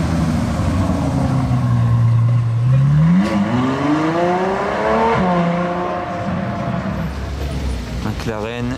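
Ferrari 812 supercar passing near Monaco during Grand Prix weekend, its engine note rising steadily through a long rev then fading, with a sharp blip near the end.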